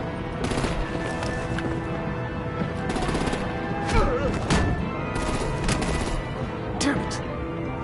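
Dense bursts of rapid gunfire with crashes and impacts fill a combat scene in the Telltale Batman game, loud and continuous, with voices and music underneath.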